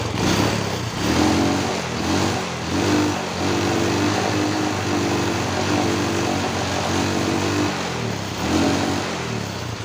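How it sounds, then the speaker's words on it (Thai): A Honda Wave 125s motorcycle engine, just repaired after a hesitation fault, is blipped repeatedly. Its mid-pitched buzz swells and falls in several close, steady revs with no talking. "เดี๋ยวลองเบิ้ลดูครับทีนี้"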